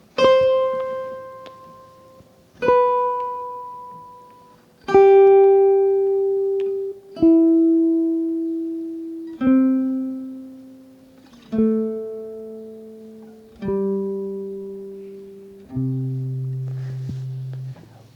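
Single plucked notes of arpeggiated chord tones sound one per measure, about every two seconds, each ringing out and fading before the next, stepping gradually lower in pitch.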